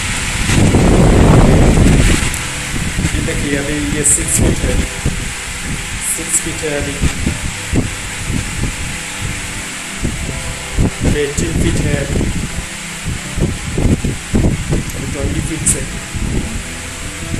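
A Cinni Sumo 300mm electric fan runs with a steady whoosh and hum under continuous speech, after a loud burst of air rushing across the microphone at the start.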